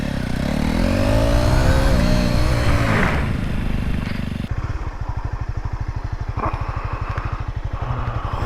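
A motorcycle engine revs loudly and steadily up close, then drops into a rough, rapid chugging idle after nearly stalling, carrying a passenger.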